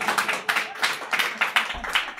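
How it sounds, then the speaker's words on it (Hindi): An audience at a poetry storytelling performance claps in a quick, uneven burst of applause, moderately loud and close, with a faint voice near the end. "करी होगी जिसने तो जरूर ताली बजाना"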